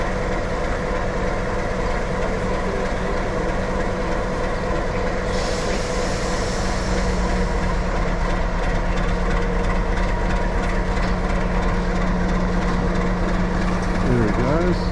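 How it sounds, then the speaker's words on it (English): Heavy locomotive engines at the Junee railway roundhouse rumble steadily and loudly for a long stretch, a deep droning idle with a brighter rise partway through and a faint squeal near the end. "hopefully you'll be starting up those engines and roaring off shortly"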